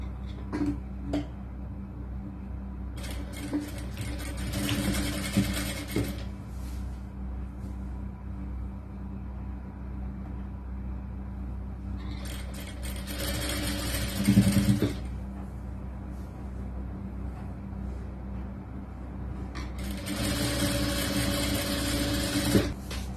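A sewing machine stitches the folded lining of a churidar top, 4XL size. It runs in three separate bursts of fast, whirring stitching over a constant low hum, with quieter handling in between.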